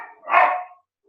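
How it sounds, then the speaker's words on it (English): A dog gives a single short bark, close and fairly loud, picked up over a call line and followed by silence. "Dan, is that your dog?"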